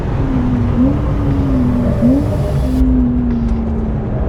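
A 2019 Porsche 911 Carrera S (992) drives at the Velo Città circuit, its loud, steady engine drone filling the clip with a couple of brief pitch dips and rises as it accelerates, with no talk over it.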